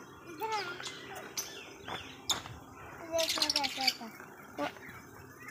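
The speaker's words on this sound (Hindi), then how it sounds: "ये मोमिन ना तोतों को मतलब खिलाने की कोशिश कर रहा है पैरट्स को" Parrots on a farm give scattered chirps and short whistled calls over a soft insect-like background, some close and a few sharper bursts, with a person talking intermittently.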